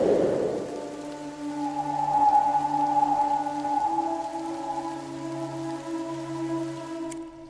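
Steady rain pours in a mystery detective adventure game, a continuous even wash with low droning tones beneath, loud and unbroken throughout with no talk.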